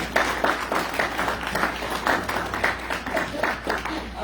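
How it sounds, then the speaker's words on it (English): An audience at a legislative forum applauds with steady, moderately loud clapping that keeps an even rhythm from start to finish. "Okay, you can clap."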